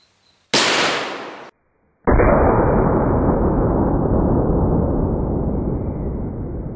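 A .50 BMG rifle firing a 750-grain A-MAX round at a steel barrel gives one sharp, very loud crack, a brief silence, then a second loud blast that rings on as a long, slowly fading roar.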